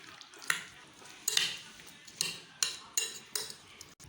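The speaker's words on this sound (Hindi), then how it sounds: "इन तीनों चीज़ों को अच्छी तरह से मिक्स कर देंगे" A spoon stirring mixed fruit cocktail and apple together in a bowl, making six evenly spaced clinks and scrapes, close and fairly quiet with no talk.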